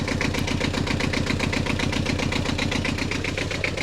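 A sailboat's engine idles loudly and steadily after its fuel filter is refilled, its rapid regular chugging pulse filling the space without a break.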